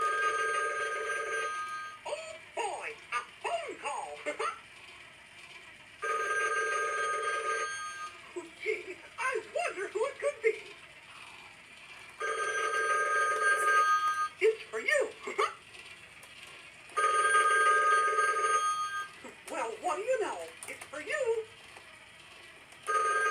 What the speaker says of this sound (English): It's a Mickey phone. It's one of those old phones, you guys. You know, the house phone